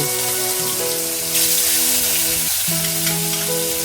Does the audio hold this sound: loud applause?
no